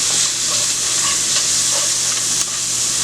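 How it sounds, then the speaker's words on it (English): Onions sauté in a pan with a loud, steady sizzling hiss close up and faint stirring movement underneath, without any talking. "Now to that, to my sauteing onions here, I'm going to add my carrots."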